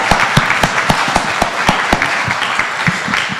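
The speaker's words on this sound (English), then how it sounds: "Everybody give them a round of applause." A meeting audience gives loud, sustained applause to thank the speakers, with dense clapping and a few sharper individual claps standing out near the recording point throughout.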